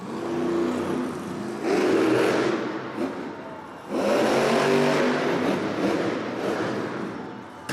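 The Gravedigger monster truck's engine roars during a freestyle run at an arena show in Sacramento, with two long surges of revving rumble separated by a dip, loud and mid-distance against crowd noise.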